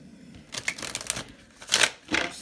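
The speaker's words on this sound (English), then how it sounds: "I'll go one more shuffle." Tarot cards are shuffled by hand in a few quick riffling, sliding bursts, close and fairly soft, with a louder flurry near the end and no talk.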